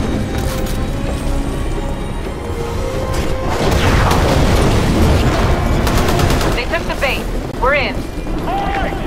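Heavy booming blasts and crackling gunfire-like bursts from a cannon in the Titanfall video game, loud and continuous throughout, with a game voice speaking over the battle noise.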